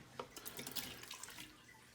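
Water poured from a cup into a pan of blackberries for blackberry jelly, a steady close splashing pour with some trickling and dripping, no talk over it.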